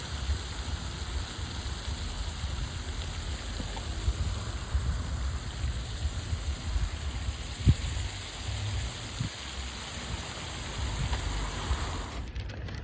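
An outdoor fountain in Jacksonville splashes water in a steady, continuous rush with no clear pauses, heard close up, with a few faint knocks and no talking.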